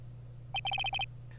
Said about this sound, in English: What is this stupid sounding ringtone?